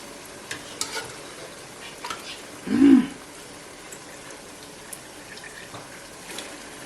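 Meat sizzles quietly in a stew pot, with one louder stirring scrape partway through and small clinks around it.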